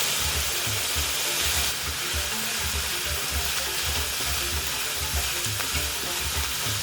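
Garlic, carrot and onion sizzle steadily in a pan with a continuous close hiss, with soft repeated scraping of stirring beneath it.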